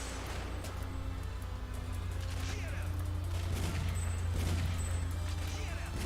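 Bursts of gunfire in a shooting video game crackle in quick, uneven volleys over a steady low hum, fairly loud and close.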